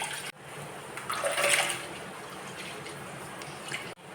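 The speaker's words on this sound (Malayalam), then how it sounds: "1 ലിറ്റർ പാല് കവറ് പൊട്ടിച്ച് ഉരുളിയിലേക്ക് ഒഴിക്കാം" Milk from a cut-open one-litre plastic packet pours into a bronze uruli for semiya payasam, a steady splashing liquid stream heard close up and alone for about four seconds.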